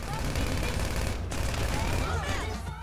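Dense, continuous gunfire from Grand Theft Auto Online fills the scene, a steady loud barrage running throughout with a game soundtrack and noise beneath, and voices speak over it.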